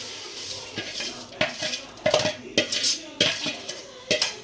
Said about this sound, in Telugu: ఇప్పుడైతే వేయించి పెట్టుకున్న సేమియా అయితే యాడ్ చేసేస్తున్నాం